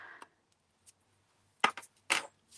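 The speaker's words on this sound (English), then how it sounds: "I'm just going to put my scissors under there, cut that little bit out." Scissors snip through card in a quiet room, a few short crisp cuts, two of them louder and closer together near the end, with faint handling noise before them.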